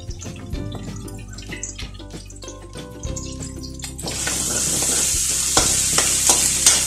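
Onions and garlic sautéing in a pan in a backyard kitchen, with close scraping stirs over a steady sizzle that grows louder and hissier midway, no talk.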